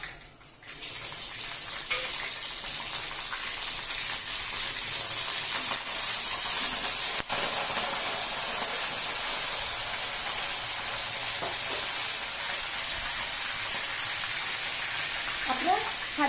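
Curry leaves fry in hot oil for Pallipalayam chicken, giving a steady, close sizzling hiss that runs continuously from start to finish, with a brief crackle of fresh spattering near the end.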